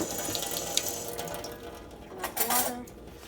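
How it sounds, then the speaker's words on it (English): Hot water poured into a bowl of black pepper and salt to form a paste for frying, a short splashy trickle with light clinks from the dish. "so I am going to add a little bit of hot water"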